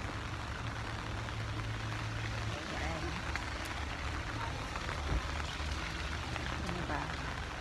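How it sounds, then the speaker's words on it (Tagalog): Heavy rain pours steadily on surfaces outside a cafe, a dense, even hiss under faint talk. "Kaso sobrang lakas ng ulan."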